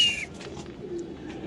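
Lahori pigeons at a breeding farm coo low and softly in a continuous murmur, opening with a brief high squeak before settling into gentle, close cooing.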